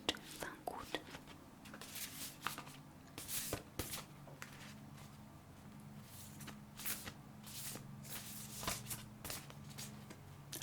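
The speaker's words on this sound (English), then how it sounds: "I love just shuffling these cards." Soft-textured goddess cards shuffled with a papery sound in repeated bursts under a low whispering voice, close and quiet throughout.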